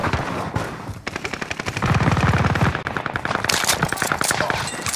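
Rapid automatic gunfire in Call of Duty: Warzone, sustained bursts of loud close shots with dense machine-gun rhythm running through the whole stretch.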